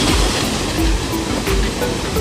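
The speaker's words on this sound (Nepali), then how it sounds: "यो रेनबो फल चाहिँ झन् अघि गएको हारुरु फल्स भन्दा अग्लोबाट माथिबाट झर्ने झरना रहेछ" Rainbow Falls in Northland, New Zealand, a tall waterfall dropping through forest, gives a steady, close, broadband roar of falling water with no voices.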